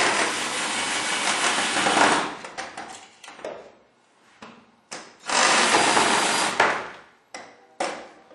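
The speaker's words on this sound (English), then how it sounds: "you can use a power drill to drill in the holes simply" A power drill whirs in bursts, driving screws into a door for a handle installation, with long steady runs and short stops between them, close and loud.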